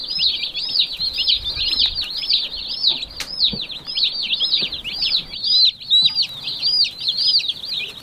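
A flock of chickens cluck and chirp continuously in a steady, busy chorus, close by, with faint outdoor background noise.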